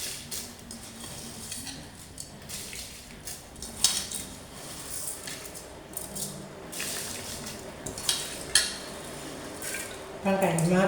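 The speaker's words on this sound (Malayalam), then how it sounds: "ഇനി നമുക്ക് ഈ അരി നമുക്ക് അതിനകത്തോട്ടിടാം." Short-grain Kaima rice tipped into a pot of boiling water, with metal clinks of a utensil against the pot and a louder rushing splash near the end.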